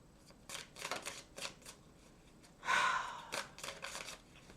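Tarot cards are shuffled close by in a series of quick riffling bursts, with one longer, louder sliding shuffle near the middle and softer flicks after.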